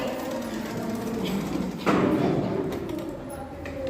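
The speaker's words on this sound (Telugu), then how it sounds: "కుట్టేటప్పుడు క్లాత్ కూడా స్ట్రైట్గానే కుట్టండి." A sewing machine hums continuously at close range while stitching the back part of a blouse, with a brief clunk midway through the run.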